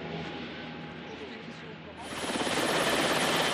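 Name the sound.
military helicopter flying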